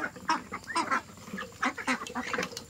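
A flock of about two dozen domestic ducks being fed paddy gives repeated nasal quacks and honking calls, overlapping in an irregular chorus close by.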